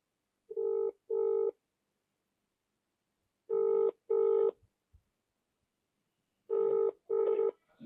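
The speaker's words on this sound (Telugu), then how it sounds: "ఆయన ఏమన్నా మనకి ఫోన్ ఎత్తుతాడా లేదా చూద్దాం" Telephone ringback tone on an outgoing call, three double rings spaced a few seconds apart with silence between, clear and alone.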